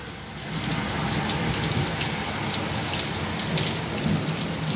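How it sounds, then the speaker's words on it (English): Hard rain pours steadily during stormy weather, a dense, even hiss of falling water close by that holds without pause from start to end with no voices. "Some hard rain we got out."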